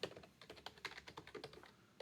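Rapid keystrokes rattle on a computer keyboard during a programming lesson, an irregular run of close, crisp taps heard alone.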